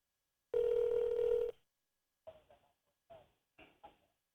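One long phone tone rings out on an outgoing call, loud and clear, then stops. Several short quiet knocks and clicks follow, separated by silence.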